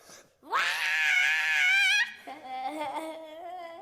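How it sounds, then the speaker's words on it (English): A person lets out one long, loud scream that rises in pitch and holds high, then drops to a lower, wavering wail before trailing off. "sometimes you just gotta scream"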